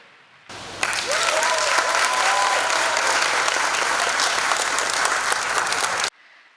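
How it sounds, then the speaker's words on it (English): An audience at a speech competition and awards ceremony breaks into applause for the contestants, a dense, steady clapping that starts abruptly, holds evenly for about five seconds, then stops cleanly. "We want to applaud all of our contestants"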